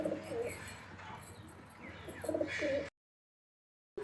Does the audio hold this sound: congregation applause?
no